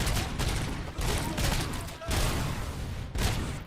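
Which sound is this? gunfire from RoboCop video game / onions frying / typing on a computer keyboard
gunfire from RoboCop video game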